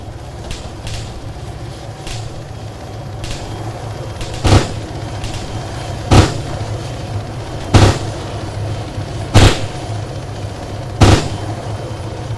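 Bursts of 7.62 minigun fire from a UH-80 helicopter in ArmA 3, five or six loud, short rattling volleys spaced about every one to two seconds over a steady rotor drone, with fainter distant shots between them.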